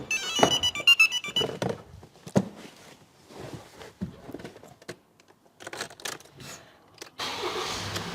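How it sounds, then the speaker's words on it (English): A Ford Transit Custom van engine cranks and catches after a few clicks and thunks, then settles into a steady idle. "And now we can start the engine up."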